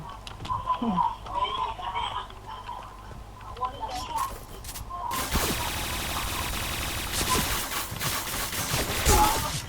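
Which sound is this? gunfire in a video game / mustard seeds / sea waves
gunfire in a video game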